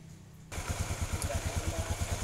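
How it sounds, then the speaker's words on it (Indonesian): Engine of a carburetted Honda Beat/Vario scooter starts and settles into a steady, close idle with an even pulsing thump, heard alone. "Ini posisi motornya harus dihidupkan."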